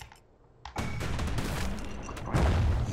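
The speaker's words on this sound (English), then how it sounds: "Hand grenade." Hand grenade blast in the video game Bastion: a loud boom lands suddenly and rolls into a sustained rumbling, crackling burst, swelling again near the end.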